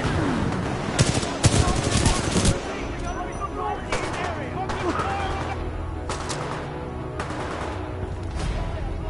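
Supporting gunfire from BT, the Titan in the video game Titanfall 2, comes as repeated bursts of heavy shots and explosions, densest early and then recurring at intervals over a steady battle din, with a voice speaking over it.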